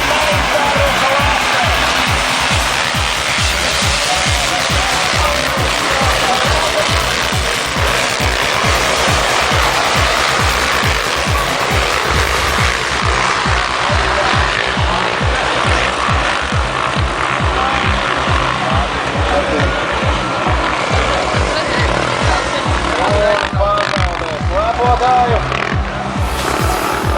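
Motorcycles roar at the start of a skijoring race in Cēsis, a loud continuous engine drone with rapid throbbing pulses, while an announcer talks over it throughout.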